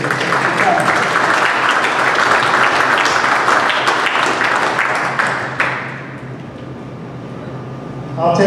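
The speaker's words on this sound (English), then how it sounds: "So round of applause for these people." An audience breaks into loud, sustained clapping from a crowd, which fades away after about six seconds into a quiet room.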